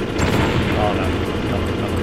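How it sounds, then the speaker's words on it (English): Grenade blasts and chaotic combat noise from the video game Metal Gear Solid, a dense, continuous loud rumble with scattered booms, with a voice talking over it. "These grenades are going everywhere."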